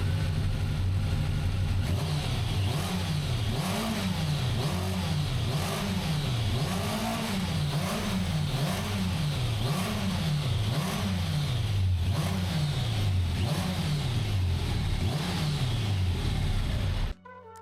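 A Kawasaki ZZR1100 motorcycle engine running badly, its revs hunting steadily up and down in a rough, wavering rhythm, loud and close throughout with no talking.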